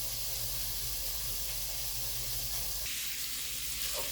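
Ground meat browning in a pan for lasagna, a steady hissing sizzle that drops slightly partway through as the pan is shifted.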